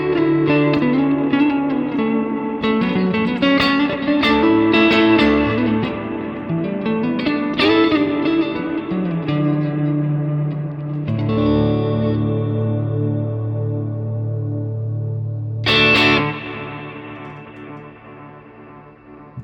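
Guitar run through the delay effect of an Eventide H90 effects pedal, played chords and notes smearing into repeating echoes with a long trail that rings on after the playing, loud and close, no talking.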